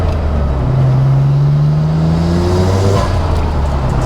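A Nissan Skyline R34 GTR drives with a steady, loud engine drone, its pitch climbing smoothly through a gear as it accelerates, then dropping at a shift before pulling again, with no voices.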